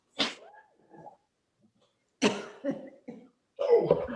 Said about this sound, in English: Coughing from the cayenne pepper that I'm leaning over.